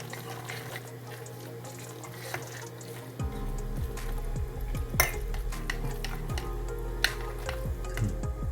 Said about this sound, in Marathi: एक चमच इनू टाकायचा आहे आणि इडली पात्र फेटून घ्यायचं